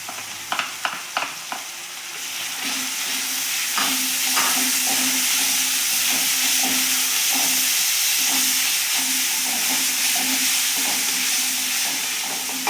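A pan of cabbage with garlic-ginger paste for restaurant-style vegetable Manchurian gravy opens with a few quick utensil clacks, then settles into a loud, steady sizzle that hisses on without a break.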